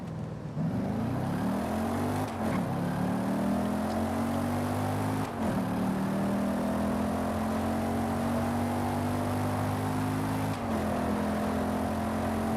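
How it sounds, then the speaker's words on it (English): A Lexus IS F, the 2008-era sports sedan with offset quad exhaust tips, revs hard in Forza Horizon 5, its engine note climbing steadily toward redline across several long pulls with brief dips between them, loud and continuous. "I'm gonna try revving it more."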